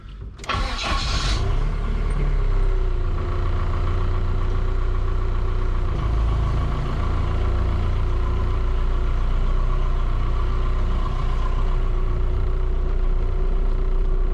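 Diesel-swapped Jeep TJ Wrangler with a Ford 6R80 transmission, heard starting up and then running with a steady, loud engine drone and a constant tone throughout, with no talk.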